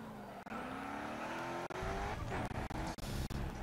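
A race car in the video game GRID Autosport brakes hard over a crest: a loud engine whine drops in pitch, then tires squeal and skid, with sharp gear-shift cuts and the engine roaring back.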